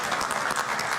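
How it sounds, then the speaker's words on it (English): A conference audience at an Arabian horse racing forum in Madrid applauds, a steady, moderately distant wash of many hands clapping with no voices on top. "A big round of applause for Edward Hammett."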